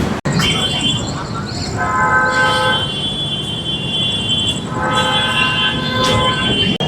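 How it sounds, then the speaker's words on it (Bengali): A passenger train running from Shalimar station toward Puri, heard from inside with steady rolling rumble, wheel squeals and rattling, and bursts of high metallic screeching. "আমাদের ট্রেন কিন্তু নির্ধারিত টাইমেই শালিমার স্টেশনের 3 নম্বর প্ল্যাটফর্ম থেকে ছেড়ে দিয়েছে।"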